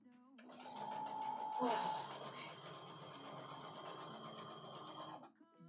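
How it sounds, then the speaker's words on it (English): A sewing machine stitches fabric strips together in a steady, continuous whirring run lasting several seconds, close and fairly loud, while a person talks over it throughout. "So basically we're just sewing a bunch of strips up together here."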